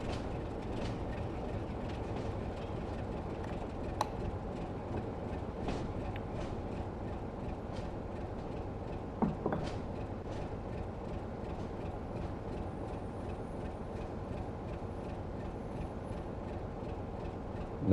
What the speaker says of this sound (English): we're driving trains in the snow